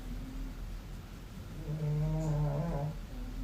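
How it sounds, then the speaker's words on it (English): A large orange cat's low, rumbling snore rises and fades once over a steady background hum, close by, with a faint tonal whine in the breath. "And he snores."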